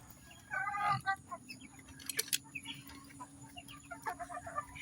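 Several hens cluck and murmur nearby in scattered bursts over a low background rumble.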